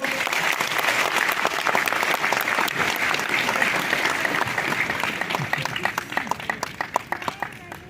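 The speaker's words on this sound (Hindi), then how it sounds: "जोरदार तालियां एक और बार" Loud, sustained applause from a large crowd, thick and continuous, then thinning into scattered individual claps near the end.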